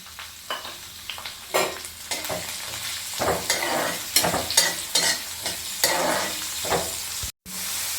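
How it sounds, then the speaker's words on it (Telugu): Onion, green chili and curry leaves sizzle in hot oil in a pan while a spoon stirs them, giving a steady close-up fry punctuated by scraping strokes, with no talk. "ఉల్లిపాయ, పచ్చిమిరపకాయ, కరివేపాకు మొత్తం కలిపి వేసేస్తాను అట్లా."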